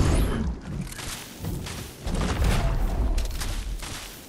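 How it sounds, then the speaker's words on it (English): Gunfire in the Fortnite video game sounds as a burst of booming, thudding shots over several seconds, loud and somewhat muffled, with no talk over it. "Gunfire behind us."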